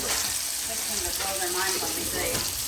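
Sausage frying in a pan gives a close, lively sizzle and crackle, with a voice speaking over it partway through.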